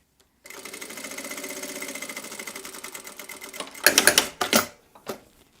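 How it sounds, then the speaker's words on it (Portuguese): A domestic sewing machine runs a steady rhythmic stitching line through structured fabric, sewing a seam on a fabric passport wallet, then stops with a few louder clunks and handwheel sounds near the end. "vou passar uma costura aqui"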